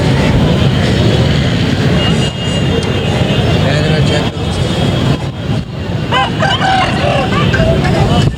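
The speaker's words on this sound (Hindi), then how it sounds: "हम लोग मुर्गों की साइड पर हैं और यहाँ पर तमाम असील मुर्गे मौजूद होते हैं" Aseel roosters crow repeatedly at a busy hen and chicks market, the calls rising over a dense, loud crowd murmur, with people talking and traffic noise underneath.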